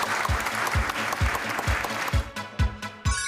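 A contest audience applauds loudly for a competing team at a televised public-data competition, with strong continuous clapping over a steady, regularly pulsing low thump.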